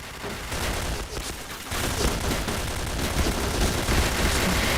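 Spectre gunfire in the shooter game Point Blank, dense rapid bursts of automatic shots rattling almost without a break, loud and close, with one short pause before firing resumes.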